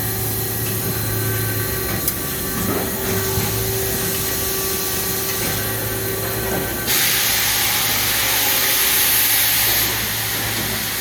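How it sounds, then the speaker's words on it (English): A process chiller pump kicks on amid steady industrial machine hum, a broadband hissing whoosh that grows noticeably louder partway through and then holds steady, with no voices. "There goes my pump."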